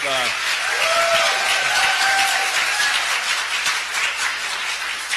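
Audience applause at an attorney general debate in Colorado Springs, a dense, steady wash of clapping that fills the whole stretch at fairly loud level, with a few whoops or whistles rising through it.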